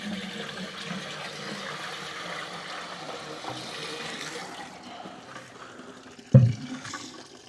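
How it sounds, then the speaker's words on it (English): Bucket of water poured down a toilet after a flushable wet wipe, a steady splashing rush that tapers off, ending with a brief low gurgle near the end. "pour a bucket of water down after it to see what happens"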